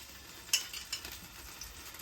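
Fresh garlic, a couple of spoonfuls, fries in oil with a soft, faint sizzle, broken by a sharp metallic tap and a few lighter clinks from a spoon; no voices.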